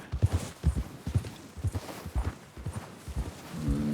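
Horse hooves walk at a steady clip-clop pace over ground in the Red Dead Redemption 2 video game, with regular paired hoofbeats that are clear and close, and no talk over them.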